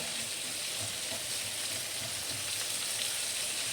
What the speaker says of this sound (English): And we're gonna also add the onions. Let me stir it in.